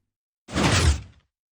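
Minecraft doors swinging open and shut together in a redstone airlock, a single brief wooden whoosh-and-thud burst lasting under a second, close and clear with no talk.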